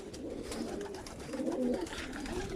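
Pigeons coo softly nearby, a low throaty warble that swells in the middle, over a faint background murmur.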